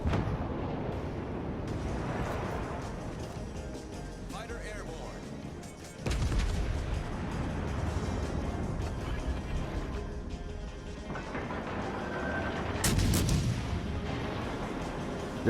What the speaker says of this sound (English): That is still a good salvo.